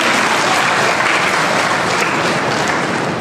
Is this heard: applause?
yes